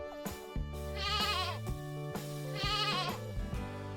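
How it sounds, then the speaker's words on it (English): A goat bleats in two long, wavering, nasal calls over a steady musical backing, loud and close, with no talk over it. "It's a goat."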